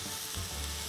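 Rice and mushrooms stirred in a hot frying pan for risotto, giving a steady close sizzle with a brief scraping stir.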